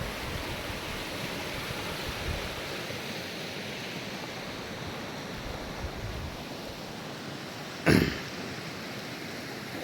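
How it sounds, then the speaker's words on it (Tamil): Cold snowmelt river flowing below snowy mountains in New Zealand, heard as a steady, continuous rushing of water with no voices and a single brief loud knock near the end. "அந்த ஸ்னோ உருகி அதுதான் ஆறாக வருது."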